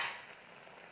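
Grated coconut dry-roasting in a pan toward golden brown for an Onam sadya koottukari, a soft continuous sizzle with light scraping of stirring, steady and close, no voices.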